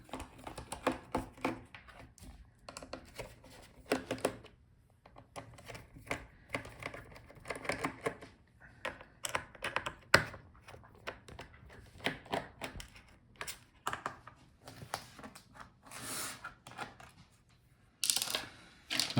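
Screws being removed from the bottom case of an HP ZBook Power G9 laptop, with faint irregular clicks and small metallic taps of tools and tiny screws over about twenty seconds.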